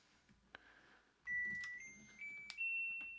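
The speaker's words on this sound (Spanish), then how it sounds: "Ha hecho unos pitidos de que se ha inicializado." Beeps from a Siemens refrigerator control board initializing after 12 volts is applied on a workshop bench: a few short, clear electronic tones at different pitches in close succession, fairly loud over quiet background noise.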